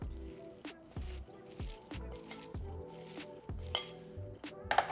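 A spoon stirs sugar into rice vinegar in a bowl, giving a series of light clinks and scrapes against the dish at an uneven rhythm, fairly faint and close, with no talking.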